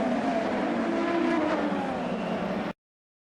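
IndyCar race cars at speed during a crash on an oval, a loud steady roar of engines and tyre noise that cuts off abruptly near the end.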